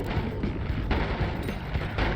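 Wand explosions in Noita crackle and thump in a dense, continuous barrage, dozens of small blasts piling on each other at a steady, loud level with no voices over them.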